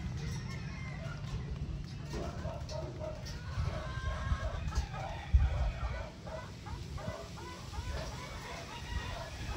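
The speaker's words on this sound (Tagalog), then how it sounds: "Nagkalat ang mga manok. Ang dami." Hens scattered around a farmhouse yard cluck repeatedly in overlapping, moderately distant calls over low background rumble, with occasional louder fowl notes.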